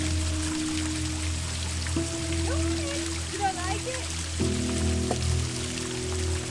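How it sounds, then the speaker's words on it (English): A Pennsylvania waterfall at an off-grid camping spot gives a steady, loud broadband roar of falling water throughout, with a faint tonal, voice-like sound layered over it. "can you all tell the difference between a Pennsylvania waterfall and a Grenada waterfall?"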